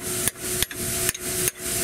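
Four sharp hammer blows strike at a steady pace during repair work on a Peugeot 206, each a crisp knock separated by a brief pause, close and clear with no voices.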